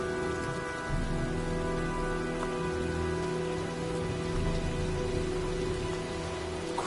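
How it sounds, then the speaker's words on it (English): Steady, moderately faint rain pouring down in a stormy video game scene, a continuous hiss of drops on surfaces with a low background hum and no voices. "looks like a storm's coming"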